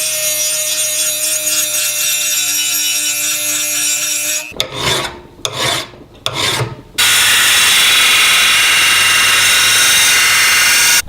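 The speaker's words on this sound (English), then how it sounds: "So now we'll just jump on the belt sander and get some bevels in it." Loud, close belt sander grinding bevels into a rebar dagger: a steady abrasive whine, then a few seconds of broken rasping as the steel is pressed and lifted, then a sustained harsher grind, with no talking.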